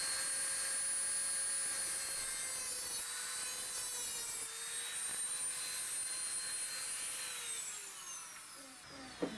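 A Dremel rotary tool cuts through a fishing lure part, a high steady whine that holds for several seconds, droops in pitch as it bites and then winds down, ending with a small click.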